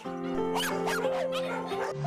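Rescued dogs, once dumped on rural roads near Wayne, Oklahoma, barking and yipping in quick overlapping bursts close by, over a steady tonal hum of background music.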